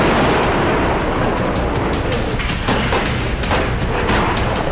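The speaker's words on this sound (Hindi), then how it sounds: "लेबनान में अब इजरायली सेना ने फास्फोरस बमों से हमले शुरू कर दिए हैं।" Israeli army phosphorus bomb attacks in Lebanon, a loud continuous rumble of war noise with repeated sharp blasts and cracks in irregular bursts, no speech heard.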